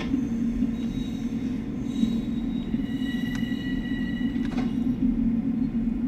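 A commuter train in Train Sim World 2020 at New York Penn Station, a loud, steady low rumble with brief high wheel squeals and metallic clicks over the top.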